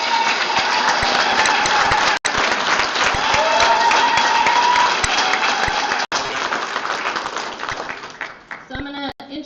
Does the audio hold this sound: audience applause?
yes